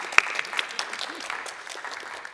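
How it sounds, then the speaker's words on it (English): Applause from a conference audience after a paper session presentation, a steady patter of many hands clapping at moderate volume, slightly distant and continuing for a couple of seconds without talk. "Let's give them another round of applause."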